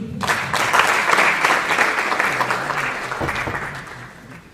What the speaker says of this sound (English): Let us clap for you.